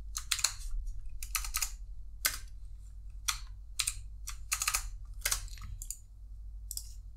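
Clicky keystrokes on a computer keyboard come in quick irregular bursts with short pauses between them, close and fairly quiet over a low steady hum.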